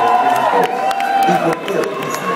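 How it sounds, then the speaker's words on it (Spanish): A crowd at a live drag performance in Mexico City cheers and shouts over a bright, ringing tone, with a voice speaking over the noise and a few claps popping through. "ustedes me van a dar un aplauso tan grande como nunca me has visto"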